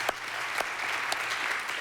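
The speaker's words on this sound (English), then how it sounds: "let's give them a big round of applause" A conference audience applauds a clean tech panel, a dense, steady wash of clapping from a large crowd that holds at an even level throughout.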